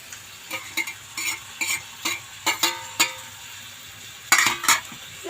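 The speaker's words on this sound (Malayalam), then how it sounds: "തേങ്ങയും കരിയാപ്പിലേക്ക് ഇട്ട് കൊടുക്കുവാന്നേ" Grated coconut and curry leaves fry in a pan, sizzling softly while a spoon scrapes and clatters against the metal in a series of close, irregular stirring strokes, with no voices.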